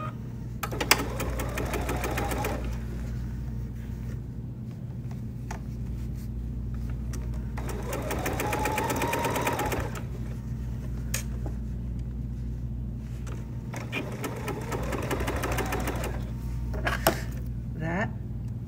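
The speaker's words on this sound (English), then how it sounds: "That Bernina went over all that bulk." A Bernina sewing machine with a size 40 needle stitches a binding strip over a bulky seam on a cosmetic bag in three steady, close bursts of rapid whirring, separated by pauses, over a constant low hum with faint talk.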